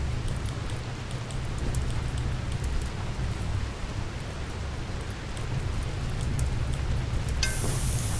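Rain falls steadily in the video game RimWorld, a soft, even hiss of drops spread over the whole stretch, fairly quiet, with a brief high electronic tone near the end.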